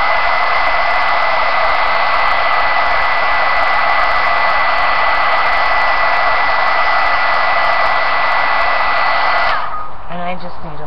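A heat gun blows steadily and loudly to dry fresh paint on a faux metal finish, a continuous broadband roar lasting about ten seconds before cutting off abruptly near the end.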